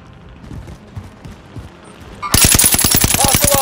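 Loud automatic gunfire erupts in a video game after a quiet, murmuring stretch, a fast rapid-fire burst of evenly spaced shots continuing to the end.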